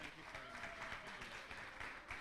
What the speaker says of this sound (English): Give applause first.